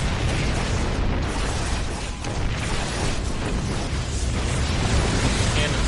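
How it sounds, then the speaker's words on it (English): StarCraft II battle as a wave of Dark Templars attacks a planetary fortress: dense, continuous explosion and combat noise fills the whole stretch, loud and steady without pauses. "Here comes a big wave of DTs down here at the 3rd of ScytheR. Gonna take out this planetary fortress"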